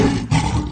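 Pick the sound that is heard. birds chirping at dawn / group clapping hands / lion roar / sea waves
lion roar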